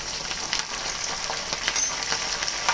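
Curry leaves crackle and spit in hot oil, a continuous busy sizzle with scattered sharper pops, near and moderately loud, no voices.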